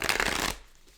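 Runic Tarot cards being shuffled close by, a brief dense riffling burst for about half a second that then cuts off into quiet room tone.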